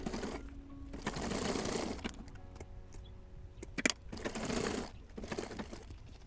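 A sewing machine stitches a leather handbag in several bursts of steady whirring motor and needle chatter, separated by pauses with small clicks and handling noises nearby.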